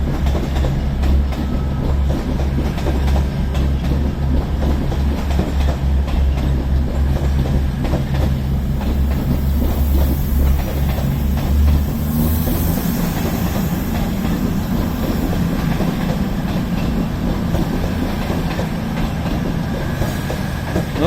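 Two coupled Class 221 Super Voyager diesel trains run through Crewe on the West Coast Main Line, a deep engine drone over rolling wheel noise that shifts pitch midway as the units pass close by, loud and continuous.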